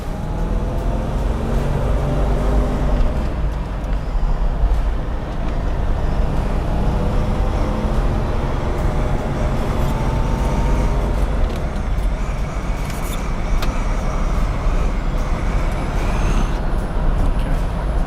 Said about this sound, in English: Heard an air leak there. It was my vent window was open.